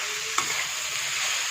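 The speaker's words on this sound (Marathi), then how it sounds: "पाच मिनिटं हा मसाला असाच भाजून घ्यायचा." Masala spices for mutton masala sizzle and roast in a pan while being stirred, a steady close frying hiss with a single scrape of the spoon.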